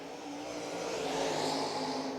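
An outlaw late model race car runs a qualifying lap at Lancaster Motor Speedway, its engine a faint, distant drone that swells slightly as it nears the line.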